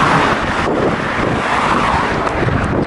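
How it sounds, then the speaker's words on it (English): Road traffic rushing past in a steady, loud wash of tyre and engine noise close by, with wind buffeting the microphone. "Look at this traffic."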